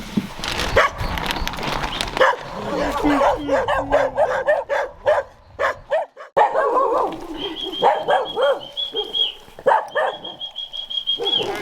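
Dogs bark and yip repeatedly at close range before feeding in a Ukrainian frontline area, several animals overlapping in irregular bursts, with a high whine running through the later part.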